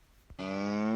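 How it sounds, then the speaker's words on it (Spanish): A cow gives one long, loud, drawn-out moo close by, rising out of near silence and holding steady to the end. "Seguimos con la vaca."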